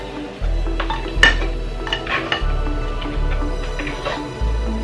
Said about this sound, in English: So I'll add everything to the pan.